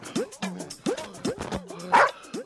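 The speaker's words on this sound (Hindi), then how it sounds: "ये इतना बड़ा कुत्ता है, इसका बाप कितना बड़ा कुत्ता होएगा" A large dog barks repeatedly and close by, with about six deep, rhythmic woofs and a few higher yips in between.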